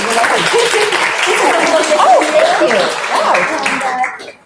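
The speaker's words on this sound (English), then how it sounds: "to give you a nice round of applause." A crowd applauds steadily for several seconds, a dense wash of clapping with voices talking over it, tapering off at the end.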